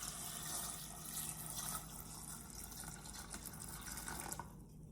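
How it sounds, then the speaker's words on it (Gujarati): Water pours steadily into a pot of chickpeas and two potatoes, a soft continuous running and filling sound that cuts off near the end. "હવે પાણી એડ કરીશું એમાં."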